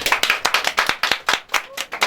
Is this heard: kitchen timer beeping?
no